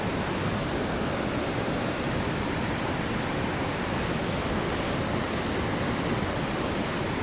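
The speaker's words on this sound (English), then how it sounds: "You hear that river rushing" A river rushes steadily outdoors in a peaceful natural setting, a dense, continuous broadband roar of flowing water that holds even and close throughout, with no voices.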